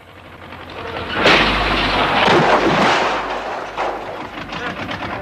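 A traditional house collapses on an earthquake shake table, a sudden loud roaring crash of falling masonry that rumbles for several seconds, then a second smaller crash.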